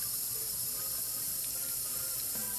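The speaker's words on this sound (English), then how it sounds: "just by turning on the faucet" Water runs from a faucet into a sink in a home darkroom while film is being developed, a steady close hiss and splash that continues evenly throughout.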